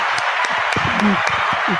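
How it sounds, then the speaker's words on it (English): Audience applause welcoming panelists to a roundtable talk show, a steady clapping wash with a few distinct claps, while a voice speaks over it. "We've got applause."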